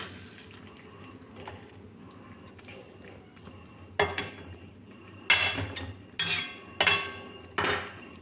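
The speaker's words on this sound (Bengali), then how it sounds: "কাজু কিশমিশ খেজুর আমসত্ব টমেটো সব দিয়ে ভালো করে এগুলো চেপে চেপে কষে নিলাম" A spoon presses and stirs tomato chutney with cashews, raisins, dates and dried mango in a pan: a soft quiet start, then several loud scraping, clattering strokes against the metal.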